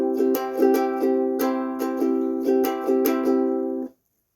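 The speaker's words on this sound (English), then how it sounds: "So that's the island strum" A ukulele plays the island strum, a quick down-down-up-up-down-up rhythm with bright repeated chord strokes, close and clear and alone, stopping abruptly near the end.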